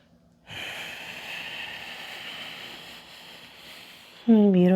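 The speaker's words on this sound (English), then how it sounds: "And breathe in and out." A slow, steady exhale drawn out over several seconds during a yoga flow session, breathy and close, ending in a louder sharper intake or voiced sound at the very end.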